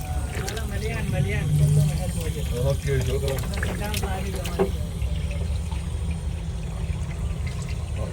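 Drinking water being run into containers at a sweet-water filling point, a steady trickling pour underneath nearby people talking throughout.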